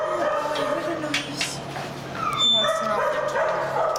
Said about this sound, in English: And you have a dog in the car right now?